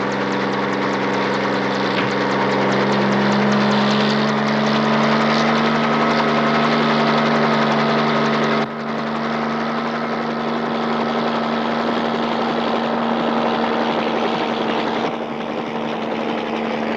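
Helicopter engine and rotor drone hold steady and loud for the whole stretch, a continuous low mechanical hum with no voices over it.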